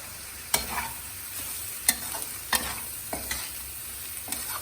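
Corn rajma bhel being stirred with chaat masala and lime juice, several sharp spoon-against-bowl clinks at irregular intervals over a faint background hiss, fairly quiet and close.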